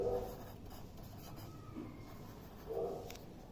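Marker or chalk writing names onto a classroom diagram of an oil-bearing rock layer, with faint scratchy strokes in short bursts at the start, middle and near the end, quiet and close.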